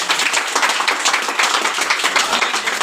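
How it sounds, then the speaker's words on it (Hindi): An audience at a business seminar breaks into dense, sustained clapping, loud and close throughout with no pauses. "एक बार जोरदार ताली वसीम जी।"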